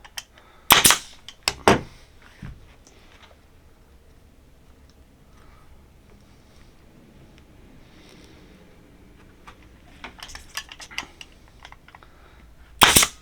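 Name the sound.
staple gun stapling leather on steering wheel boss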